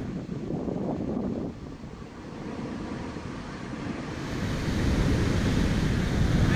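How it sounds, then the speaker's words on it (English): Huge ocean waves surge onto a rocky coastal flat in Australia, a continuous loud roar and wash mixed with heavy wind buffeting, swelling louder toward the end. "The waves are coming so far up now that they're just coming onto this little rock flat."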